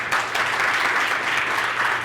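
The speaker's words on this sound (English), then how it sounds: "Let's give a round of applause to our speaker." An indoor audience at a spring campus event gives a round of applause for a speaker, a steady dense clapping that holds evenly for about two seconds with no voices over it.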